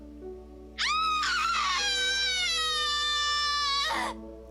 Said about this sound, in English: A scream ripples through the air.